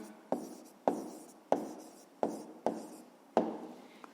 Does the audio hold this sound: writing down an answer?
yes